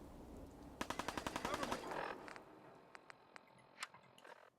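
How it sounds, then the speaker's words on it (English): Gunfire in the video game Fallout 4: a rapid burst of automatic shots followed by scattered single shots, fairly faint and distant, with no talking. "Incoming fire"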